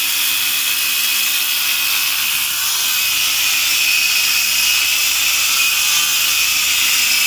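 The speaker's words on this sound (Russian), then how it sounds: "шлифуем." An old steel rail is ground down to make an anvil in a workshop, with a loud, continuous, high-pitched power-tool whine and hiss that holds steady throughout, with no voices.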